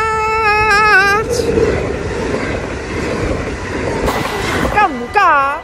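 A train passes a railway crossing in Echt, the Netherlands, with a sustained rolling rumble, a whistle-like tone at the start and near the end, and people talking and exclaiming over it.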